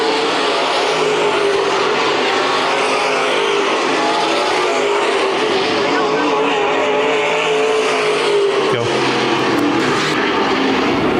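Dirt track race cars, NASCAR modifieds at Adams County Speedway in Iowa, roar past with steady loud engine noise, filling the scene at close range while an announcer talks.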